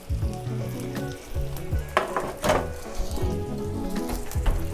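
Salmon searing in a hot pan at 450, a steady close sizzle and crackle of frying fish with occasional brief pops and scraping stir sounds, no talking.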